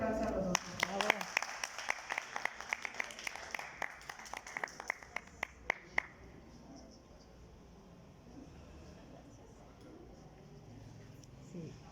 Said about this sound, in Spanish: Un fuerte aplauso a los dos.